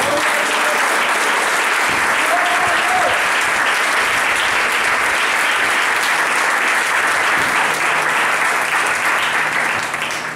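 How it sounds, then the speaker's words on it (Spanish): A church congregation bursts into loud, sustained applause that fills the room, dense clapping continuing steadily for about ten seconds with a faint voice briefly underneath. "Den un aplauso al que vive."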